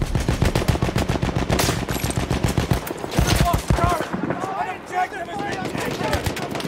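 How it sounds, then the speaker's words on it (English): Automatic machine gun fire in a Battlefield 1 battle, dense bursts of rapid shots and explosions filling the scene, mixed with voices and chaotic combat noise. "Enemy machine gun over there."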